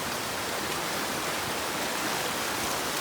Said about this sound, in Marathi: पाणी बघा किती फास्ट जातोय.